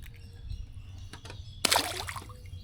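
A caught shellcracker sunfish is tossed back into a lake beside trees on a stormy morning, giving one sharp splash followed by a brief slosh and trickle, close by and alone after quiet ambient sounds.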